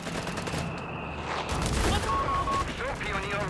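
Gunfire in the WWII strategy game Company of Heroes 3, with bursts of shots and rattling fire mixed into dense battle noise and radio-style game voices, heard at moderate loudness with someone talking over it.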